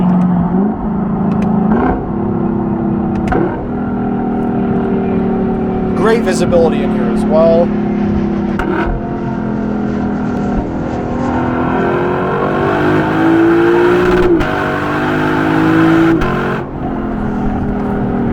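Lexus LC500 coupe with a 5-liter V8, engine droning and rising in pitch as it revs under steady road noise, with someone talking over it inside the cabin.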